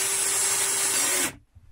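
A power drill whines loudly at a steady pitch for about a second, then stops abruptly, leaving near silence.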